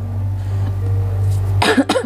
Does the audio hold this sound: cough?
yes